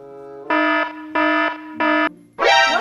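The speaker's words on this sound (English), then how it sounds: "Sir, we're gonna have to ask you to put your baggage on the scanner and walk through the metal detector" An airport walk-through metal detector alarm goes off loud and close: three evenly spaced, harmonic buzzing beeps, then a harsher, wavering fourth tone.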